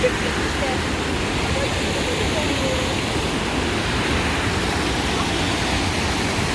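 Kapuzbaşı waterfall with cold water crashing down, a loud, dense, continuous roar of falling water heard up close, no talking.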